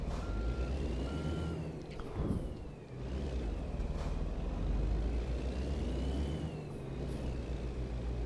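Truck engine idling with a low, steady rumble, plus a faint intermittent beeping that rises and falls, close by and without voices.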